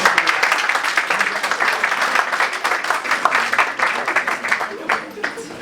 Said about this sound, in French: merci d'applaudir correctement